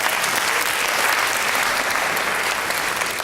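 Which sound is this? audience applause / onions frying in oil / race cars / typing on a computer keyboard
audience applause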